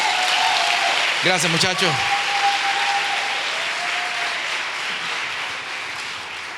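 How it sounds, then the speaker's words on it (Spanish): A church congregation breaks into dense, sustained applause that fades gradually, with a brief spoken thank-you from a man near the start. "¿Cuántos pueden dar un aplauso, Señor, por eso?"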